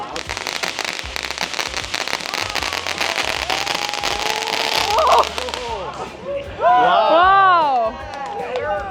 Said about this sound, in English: On 4th of July, they gotta be the ones managing the fireworks